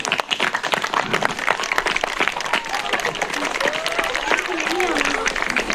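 An audience claps continuously and densely throughout at a theatre play, with voices and shouts mixed into the applause.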